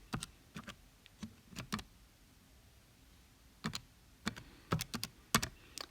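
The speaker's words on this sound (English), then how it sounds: "We're going to type that into our calculators." Quick plastic key presses on a calculator, two short bursts of clicks separated by a pause, close and quiet with no talking.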